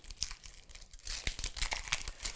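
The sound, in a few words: knife cutting an onion, Western-style Santoku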